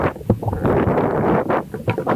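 Strong wind buffets the microphone on a sandy beach, a loud, close, rumbling roar that surges and dips in uneven gusts without a break.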